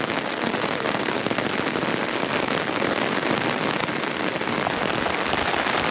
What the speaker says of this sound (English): It's raining, like raining.